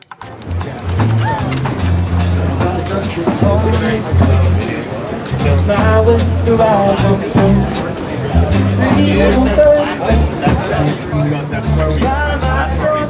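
Loud, rowdy crowd of young people chattering and shouting at a Pacific Beach bar and hookah spot, dense overlapping voices close by with steady babble throughout and occasional louder calls rising above.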